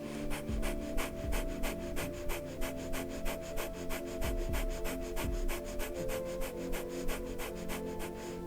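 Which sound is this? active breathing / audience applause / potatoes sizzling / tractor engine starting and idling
active breathing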